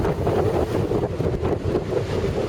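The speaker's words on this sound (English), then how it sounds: "It's very blowy out there today." Strong wind blowing on the rocky coast of Jersey in December, a loud, steady, gusty roar buffeting the microphone, with surf churning faintly underneath and no talk.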